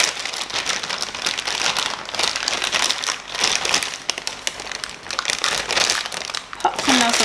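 Plastic piping bag, fitted with a Wilton 8B nozzle for buttercream piping, crinkles and crumples steadily as it is handled, a close, continuous rustle throughout.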